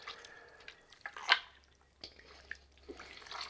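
Whey dripping from pressed mozzarella curd, a handful of soft, close wet drips and small squishy sounds spread unevenly over a quiet background.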